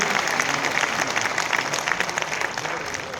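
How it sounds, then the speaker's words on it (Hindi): A crowd claps at a public event in Sonipat attended by the state chief minister, a thick continuous burst of applause at even strength, loud and close, with faint voices underneath. "एक बार तालियां बजाएंगे"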